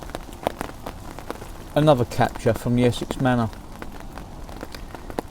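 Steady rain patters on a surface beside a club carp lake in flood-water conditions, a constant close hiss beneath someone talking briefly in the middle.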